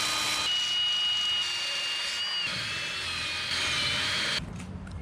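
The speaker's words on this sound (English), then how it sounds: "Then I have this little wire wheel, which I will also put on there. I'm gonna try this out first because this will remove paint pretty quickly." A small wire wheel on a power tool strips paint from a car's front subframe, a loud, steady whirring grind held close for several seconds before it eases off at the end.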